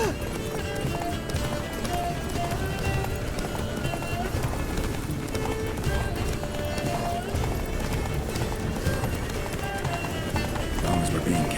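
A horse gallops in The Witcher 3: Blood and Wine video game, rapid clip-clop hoofbeats running throughout, loud and close, mixed with game music and effects.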